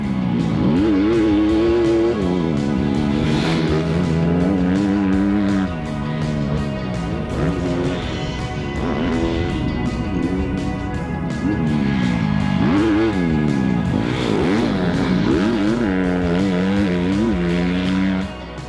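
A 2020 Honda CRF250R dirt bike engine runs loud and close for the whole stretch, its pitch constantly rising and falling as the throttle is worked, with no voices over it.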